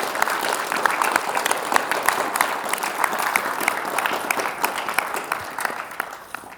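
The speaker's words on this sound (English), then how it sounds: "I'd like you all to put your hands together and give them all a round of applause" A smaller crowd claps at a rugby club prize giving, a moderate, uneven patter of hands with distinct individual claps, steady for several seconds.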